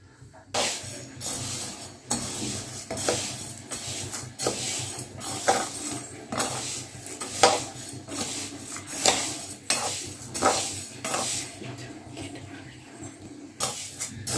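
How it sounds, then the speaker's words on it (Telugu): Rhythmic scraping and clinking of a utensil against a pan while ingredients for homemade cerelac fry on medium heat, repeating steadily throughout over a low background hum. "మీడియంలో పెట్టి ఫ్రై చేసుకోవాలి, కొంచెం కలర్ చేంజ్ అయ్యేంత వరకు"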